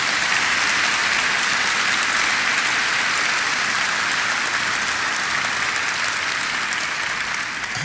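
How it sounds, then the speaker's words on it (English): Sustained audience applause for a congresswoman at a NASA space exploration conference, a dense, steady wash of clapping from a large crowd that holds evenly through the whole stretch without voices on top. "Please give her a big round of applause."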